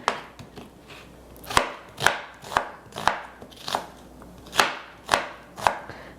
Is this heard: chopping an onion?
yes